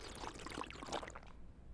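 Plain water is poured in a cartoon, a short, soft, steady gush that fades at the end, faint and without speech.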